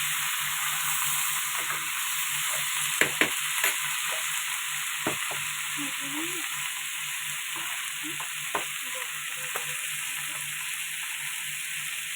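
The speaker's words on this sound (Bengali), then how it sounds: "তারপর কেটে রাখা আলু শসা কাঁচা লঙ্কা চিরা এর মধ্যে দিয়ে এটা নাড়িয়ে কষিয়ে নেব" Potato, cucumber and slit green chilli stir-fried in a pan, a steady close sizzle with scattered clicks and scrapes of a spatula stirring through it, no talk.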